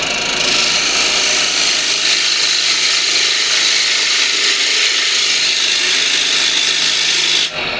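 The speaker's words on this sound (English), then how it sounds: "So just with a small spindle gouge I'll just true up" A small spindle gouge cutting wood on a lathe, a steady loud hissing and scraping with a continuous whirring spin, unbroken throughout until it stops abruptly at the end.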